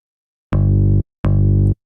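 Two synthesized bass notes, each opening with a bright plucked pick-attack transient and then holding a steady, buzzy sustained tone for under a second before cutting off cleanly, separated by a short gap of silence.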